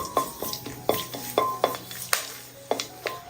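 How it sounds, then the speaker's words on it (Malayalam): Whole cloves and a piece of cinnamon frying in hot oil while a spoon stirs them, giving a steady series of scraping clinks against the pan over a soft, continuous sizzle. "ഇതിലേക്ക് 2 ഗ്രാമ്പു ഒരു ചെറിയ കഷ്ണം പട്ടയും കൂടി ചേർത്ത് ഒന്ന് മൂപ്പിച്ചിട്ടെടുക്കാം"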